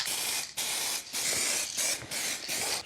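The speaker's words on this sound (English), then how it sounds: "Gotta be thrilling TV watching clear coat go on." Napa 2K high gloss clear coat hisses from an aerosol can onto a helmet in five close bursts of about half a second each, separated by short pauses and faint mechanical rattles, with no talking.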